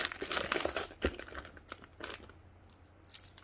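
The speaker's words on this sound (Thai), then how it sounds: "เหรียญหนึ่งบาทตราแผ่นดินนะครับ" Thai one-baht coins with the national emblem design are handled up close, giving bright metallic clinks and jingles mixed with a light rustle of packaging, then a few scattered clicks.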